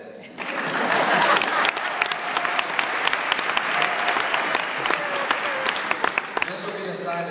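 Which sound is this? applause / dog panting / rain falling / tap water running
applause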